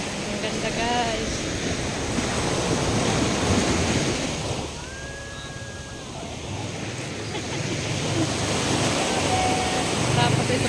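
Sea waves rolling onto the beach at Lobo, Batangas around six in the evening, a constant roar of surf with wind buffeting the microphone, easing briefly midway before building again.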